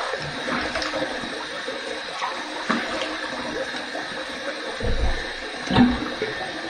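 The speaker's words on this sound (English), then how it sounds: "let that cold water run a little bit" Cold water runs steadily from a bathroom tap for rinsing after a wet shave, a continuous hissing flow with small splashes and shifts, moderately loud and close.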